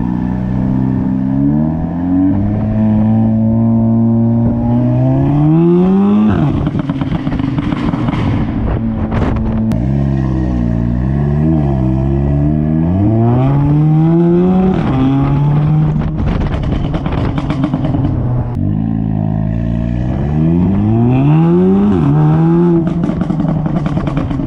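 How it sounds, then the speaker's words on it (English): A petrol car accelerates hard through repeated gear pulls, its engine note climbing loudly then dropping at each shift, close and dominant, with wind buffeting the microphone. "I literally just want you to get to hear the car in action"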